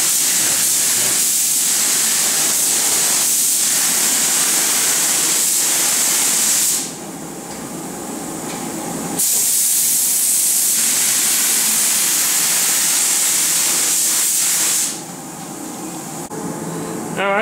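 A spray gun hisses loudly and steadily while laying a coat of color paint on an MGB in a paint shop, in long bursts separated by short pauses.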